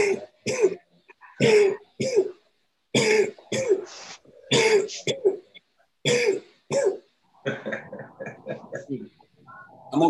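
A person coughs repeatedly in short, harsh bursts separated by pauses, close to the mic, with some throat clearing mixed in.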